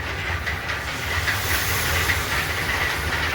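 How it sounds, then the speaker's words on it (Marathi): Chicken gravy poured into hot, cooked masala for chicken biryani sizzles as a steady, loud broadband hiss that holds unbroken throughout, with no voices. "आता आपण याच्यामध्ये चिकनचा रस्सा टाकू"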